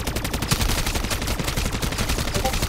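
Rapid automatic gunfire rattles in the MW3 Zombies video game, dense bursts of loud shots repeating throughout without pause.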